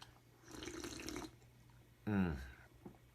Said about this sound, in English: to pour liquid into a flask, you want to pour that as slowly as possible. Just a nice, gentle stream.